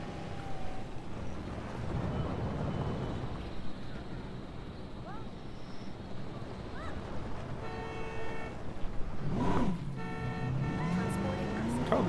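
Ranger truck horn in the Jurassic World Evolution video game, several short honks near the end over a steady engine rumble, with a voice talking over the game sounds.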